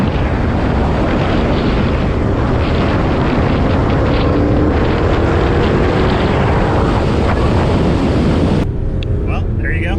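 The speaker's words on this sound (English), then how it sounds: "That was your first lap on the PP2 Mustang." Ford Mustang PP2 driven hard on a lap: loud, continuous engine roar mixed with heavy wind and road rumble from inside the car, cutting off sharply near the end.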